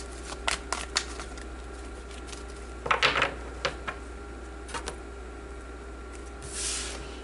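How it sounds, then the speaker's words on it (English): Tarot cards being shuffled and pulled, with scattered soft flicks and riffles and a denser burst of card slaps midway, close and fairly quiet, no talking. "let's pull a tarot card here"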